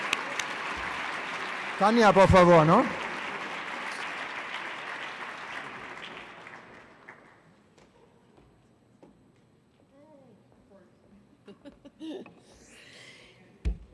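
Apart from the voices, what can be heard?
audience applause for young graduates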